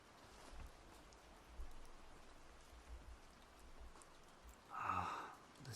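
Steady soft rain hiss, faint and distant, with a slightly louder patter swelling near the end.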